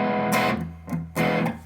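Electric guitar played through a Soul Food boost pedal, giving a driven, slightly gritty tone; three strummed chords ring out in turn, each attack bright and loud with sustain between, no talking.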